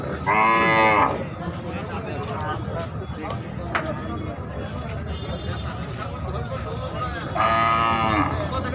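Two loud cow moos, one near the start and one near the end, over a constant murmur of crowd chatter and noise at a cattle market in Alamdanga, Chuadanga.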